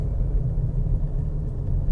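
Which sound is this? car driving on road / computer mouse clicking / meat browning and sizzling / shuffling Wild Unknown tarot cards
car driving on road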